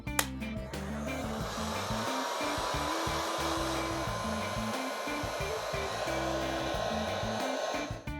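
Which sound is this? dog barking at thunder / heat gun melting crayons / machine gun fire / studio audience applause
heat gun melting crayons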